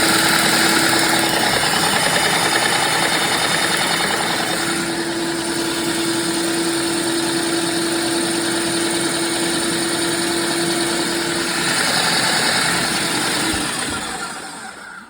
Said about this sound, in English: it's sucking up through the main one, that's the paint feed, and it's blowing it back out this one